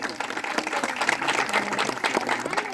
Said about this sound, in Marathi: टाळ्या वाजवून प्रोत्साहन द्यायचंय विद्यार्थ्यांसाठी